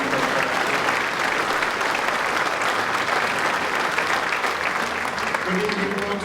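An audience at an insurance town hall gives a loud, sustained round of applause, thick continuous clapping from a close crowd, with faint voices mixed in beneath it.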